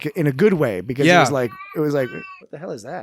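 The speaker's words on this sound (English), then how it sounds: "That was my cat meowing." A house cat meows briefly, partly buried under a man's ongoing conversational speech.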